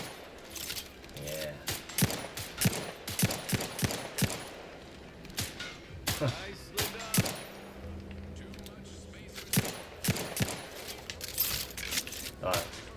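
Gunfire in the video game The Outer Worlds 2, a run of sharp shots in irregular bursts mixed with metallic clinks and game effects, with someone speaking briefly over it.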